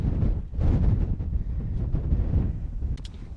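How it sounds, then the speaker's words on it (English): Strong wind buffets the microphone on an exposed Dartmoor hilltop, a loud rumbling roar that surges and eases over a few seconds, with no speech. "it's very windy up here, I don't know if you can hear that."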